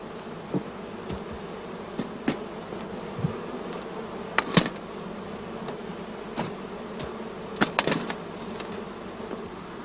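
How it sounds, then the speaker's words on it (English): Honey bees flying out of nucleus hive entrances, a soft constant buzzing with individual bees zipping close past the microphone every second or so. "we open the entrance holes and let the bees fly"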